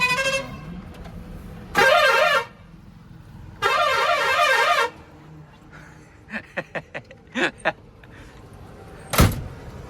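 A truck horn sounds in two long blasts, followed by several short clicks and a sharp thud, with faint background noise between.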